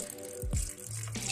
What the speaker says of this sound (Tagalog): Sa puntong ito, nilalagyan ko na siya ng tubig.